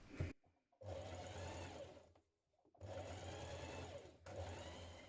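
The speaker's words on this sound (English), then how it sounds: "a couple of millimetres away from that seam on the outside we're going to stitch it down flat" A sewing machine stitches a seam down flat on a dress, running in three steady motor bursts separated by short pauses, close and alone with no talk.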